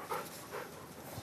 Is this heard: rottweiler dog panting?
yes